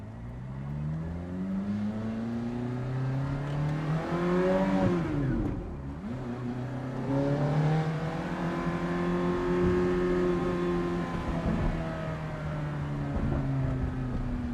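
A 2008 Ferrari F430 Spider with a V8 and six-speed manual revs up and down in long, smooth sweeps. The note dips briefly in the middle before climbing again, loud and close with no talking.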